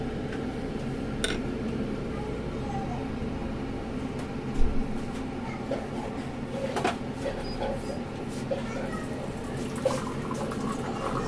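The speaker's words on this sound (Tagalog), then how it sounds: "Tapos lagyan natin ng water." Water poured into a cooking pot while making rice vermicelli with chicken broth and tomato sauce, a steady soft trickle running through the whole stretch under low kitchen hum and a few faint clinks.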